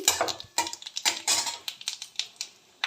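Dry red chillies, panch phoron and small bay leaves stirred in hot mustard oil, heard as quick, irregular clicks and scrapes of a utensil against the pan, fairly close and with no talking.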